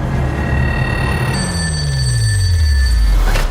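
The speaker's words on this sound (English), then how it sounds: "I want you to answer the phone for them. It rarely rings." A telephone rings in a Netflix drama, a steady electronic ring tone with bright repeating tones over a low rumbling background, loud and unaccompanied by speech.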